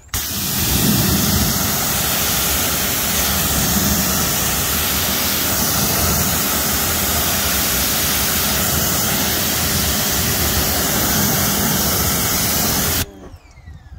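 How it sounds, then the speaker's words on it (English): A car wheel is rinsed with a steady, forceful water spray, a loud continuous rushing hiss lasting over ten seconds before cutting off abruptly. "So we'll go ahead and wash this off."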